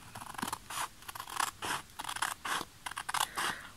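Scissors snip through wallpaper along a marked line, a run of about ten crisp, close cutting strokes in steady rhythm with no talking.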